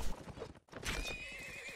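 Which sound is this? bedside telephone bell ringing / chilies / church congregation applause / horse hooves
horse hooves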